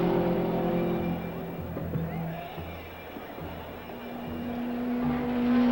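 A Watson-built race car laps the 2.5-mile Indianapolis track at over 149 mph, its engine a steady, distant drone that rises and falls as it circles, heard beneath a narrator's voice.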